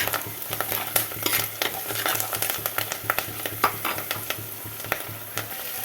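Onions and green chillies sautéing in a pan for a coconut-milk-free mackerel curry, with a steady sizzle and repeated stirring scrapes throughout, close and fairly loud.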